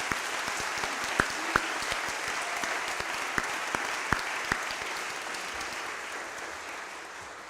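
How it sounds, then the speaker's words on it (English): Sustained applause from a school audience at an honors day ceremony, a broad wash of many hands clapping with a few sharp claps standing out, slowly fading toward the end. "Let's give them one more round of applause if we could."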